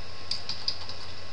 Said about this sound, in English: I can type Nancy test, enter, and I am logged in right away